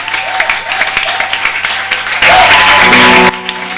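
Congregation applauding during a church service: steady clapping under sustained musical tones, swelling into a louder, denser burst of applause before cutting off near the end.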